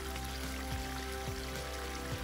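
Rainwater runs down a hiking trail like a small waterfall, a faint continuous rushing and trickling wash with a steady low hum underneath and no talk.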